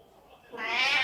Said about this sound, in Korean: 지금 저희 집 고양이가 문 열어달라고 난리거든요.